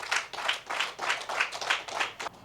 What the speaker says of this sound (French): Je vous prie de les applaudir.